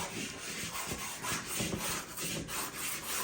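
Charcoal scratches on paper during a portrait drawing, quiet and close, with repeated rhythmic rubbing strokes in a steady back-and-forth pattern.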